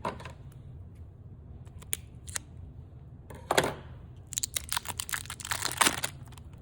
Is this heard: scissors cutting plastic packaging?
yes